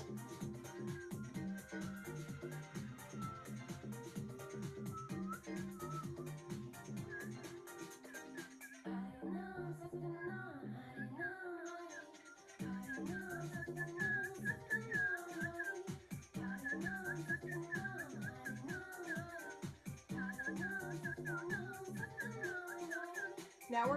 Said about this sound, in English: now we're going to whistle for 20 seconds.